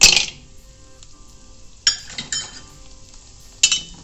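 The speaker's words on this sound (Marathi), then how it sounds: "हिंग फुटतो" Whole lumps of asafoetida roasting in a pan over a low flame, giving a few sharp, sudden crackling bursts with metallic clinks, separated by stretches of quiet.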